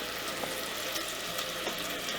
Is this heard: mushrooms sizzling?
yes